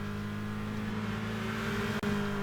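A Renault Clio hot hatch in the Gran Turismo 6 racing game holds a steady, loud engine drone on track, with one brief dip in the sound near the end.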